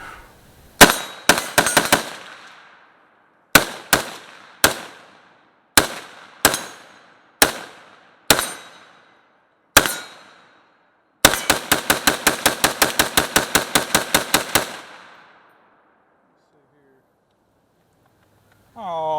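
A Galil ACE .308 rifle fed from a D50 drum magazine fires outdoors: sharp, loud single shots spaced at irregular intervals, then a rapid burst of about fifteen quick cracks, with ringing decays between.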